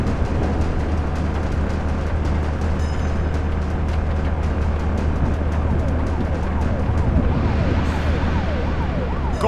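Ambulance siren in a truck driving video game, a loud continuous wailing sweep over a constant low engine drone, with some faint talk underneath.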